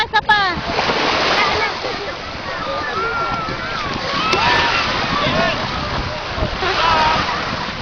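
Continuous splashing and churning water from someone swimming in a stream outdoors, with wind buffeting the microphone and people talking throughout.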